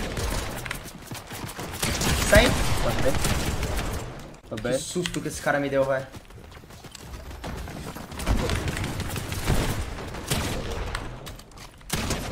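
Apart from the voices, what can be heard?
gunfire from all sides in a video game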